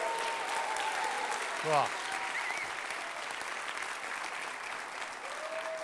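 Audience applause and cheering at the opening of the Depth of Field 2019 conference, a steady dense wash of clapping that runs throughout, with a brief voice near the start.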